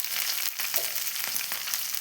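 Green chillies, red chillies and curry leaves sauté in hot oil for a date pickle, giving a dense, even crackling sizzle close up, with faint stirring scrapes and no voices.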